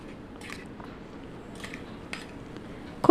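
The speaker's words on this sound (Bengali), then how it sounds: "এবার কন্টিনিউ নাড়াচাড়া করে এগুলোকে কষিয়ে নিতে হবে।" Spices and beans being stirred in a frying pan: soft, scattered scrapes and light clinks of a utensil against the pan over a quiet sizzle, with a sharper knock at the very end.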